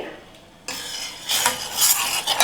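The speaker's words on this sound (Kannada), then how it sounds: "ಬೆಲ್ಲ ಹಾಕಿ ಮಿಕ್ಸ್ ಮಾಡ್ಕೋಬೇಕು ಇನ್ನೂ ಒಂದು ನಿಮಿಷ ಕುದಿಸ್ಕೋಬೇಕು" Jaggery being stirred into a boiling herbal kashaya in a pot, quiet at first, then scraping and rattling strokes of a spoon with bubbling, growing louder toward the end; no talk.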